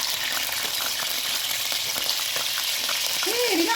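Cow liver, softened after an hour of cooking, fries in hot cooking oil with a loud, steady, crackling sizzle that runs throughout, occasional stirring noises, and a brief voice-like whine near the end.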